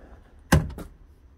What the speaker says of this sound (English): We've got a door latch here that opens like that.